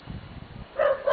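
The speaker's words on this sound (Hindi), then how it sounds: "दूर से भौंक रहे हैं, करीब कोई नहीं आ" Dogs barking at night in the distance, a few faint barks and yips rising over wind noise in the latter half.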